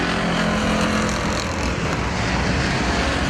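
Race cars roar past the starter stand as the white flag comes out with two laps remaining, a loud continuous engine wash with a rising and falling pass, close and alone without voices.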